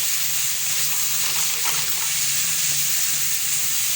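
Water poured into a pan of spices (Kashmiri red chilli, turmeric) frying on the stove gives a steady, loud broadband hiss and sizzle that continues throughout.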